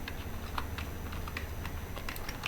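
Quick, light keystrokes tapped on a computer keyboard, an irregular run of soft clicks over a faint steady background hum.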